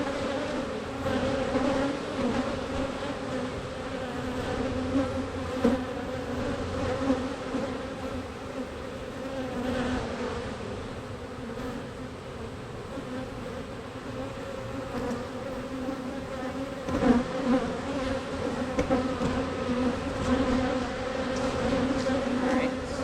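Honey bees buzz steadily in a hive during a weekly inspection, a dense, close, continuous drone with small swells, and no talk over it.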